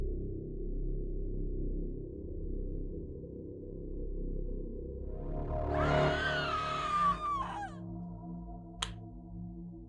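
In an animated horror story, two people scream in a brief burst of wavering, shrill cries over a low, eerie droning background, followed by a sharp click.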